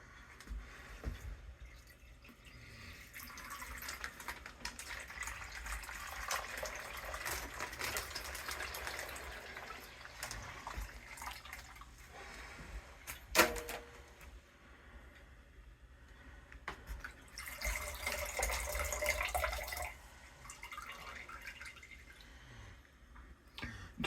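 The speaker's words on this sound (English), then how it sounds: "She's going to pour it through the strainer." Strained dandelion juice pours from a bag through a strainer, a soft continuous trickle and drip that swells into heavier gushing streams in a couple of bursts, close and fairly quiet with no talking.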